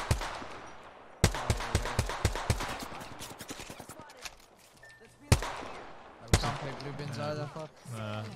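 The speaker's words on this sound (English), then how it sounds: "I feel like everyone's just shooting at us" Rapid bursts of video game gunfire from a Warzone-style shooter, with loud shots spread through the clip and sharp single cracks standing out, sounding near and forceful over a busy battle background.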